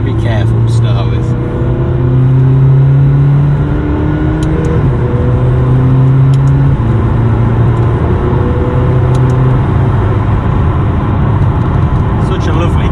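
A McLaren GT with a titanium valvetronic exhaust accelerates through a series of rising engine pulls broken by quick gear changes, heard loud from inside the car with a voice talking over it.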